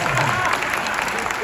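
Audience applause at a tribute concert, a steady wash of clapping lasting the whole short stretch, with a voice speaking over it.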